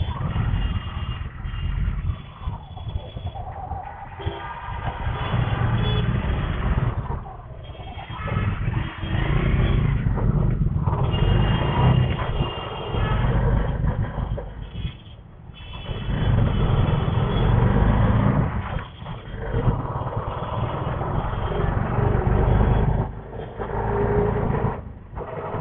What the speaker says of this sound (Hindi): ट्रैफिक है ये बहुत ज़्यादा।